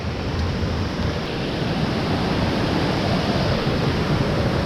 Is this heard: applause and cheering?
no